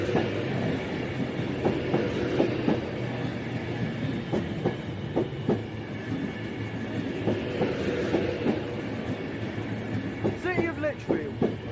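A Class 390 train passes through Aston station with a steady rumble of wheels and rhythmic clickety-clack over the rail joints, a few brief squeals near the end, and faint voices beneath.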